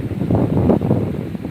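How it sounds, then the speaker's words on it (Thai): Dry, cold wind gusting outdoors on an 18-degree day, a steady rushing buffet against the microphone with irregular low gusts and no voices. "เสียงลมแห้งๆ"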